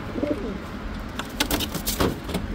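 Several racing pigeons kept for racing coo close by in a loft, with soft repeated low coos and occasional flutter-like bursts, no voices.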